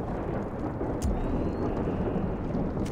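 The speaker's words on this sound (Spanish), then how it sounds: "vaya tormenta" A thunderstorm in Splinter Cell Blacklist at an abandoned factory rumbles as a dense, continuous wash of heavy rain, with a low thunder boom near the middle.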